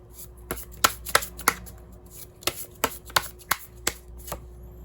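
Tarot cards shuffled by hand in a quiet room, crisp riffling bursts and snapping slaps repeating in an uneven rhythm of about a dozen strikes, close and clear with no talking.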